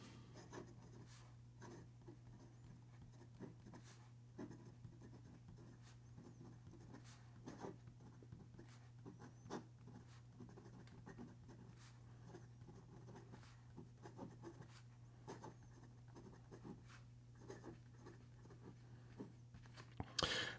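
A Namiki Yukari Royale fountain pen with a fine nib writes across paper, giving soft scratchy strokes and light taps in a steady, quiet rhythm close up, over a constant low hum.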